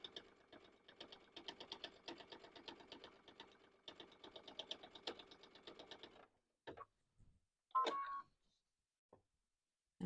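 A sewing machine stitches through layers of a pocket placemat in a fast, even mechanical patter for several seconds, then stops, followed by a few scattered clicks and clunks of the machine.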